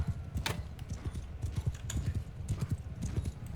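Rapid, continuous clip-clop of horse hooves galloping on the ground in the medieval battle game Bannerlord, a fast uneven rhythm with some thuds and clatter around it.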